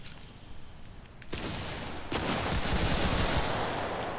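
Shotgun blasts and heavy gunfire in the battle royale video game Cuisine Royale, a loud, dense burst that erupts after about a second and keeps rolling near and constant to the end.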